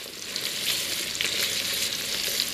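Ginger sautés in a pan for tinola chicken soup, giving a steady close sizzle with light stirring scrapes throughout and no talking.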